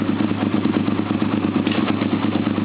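Suzuki SV650 motorcycle engine running steadily on a cold start, a close, continuous low throb with a light mechanical clatter as it idles and is put in gear.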